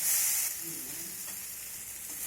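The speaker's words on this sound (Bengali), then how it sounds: "এখন আমি এর মধ্যে দিয়ে দেবো ভেজে রাখা করলা।" Fried bitter gourd is tipped into a pan of potatoes and sautéed, giving a loud bright sizzle that settles into a steady frying hiss with soft stirring, close by and without speech.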